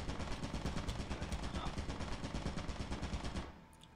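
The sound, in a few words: turret gunfire in a horror video game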